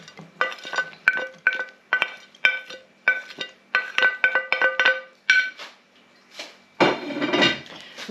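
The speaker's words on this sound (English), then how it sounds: "We give this a good mix up." Bacon floddy mixture stirred by hand in a bowl, with a run of repeated clinks and scrapes of a utensil against the bowl, close and fairly loud, ending in a burst of rougher mixing.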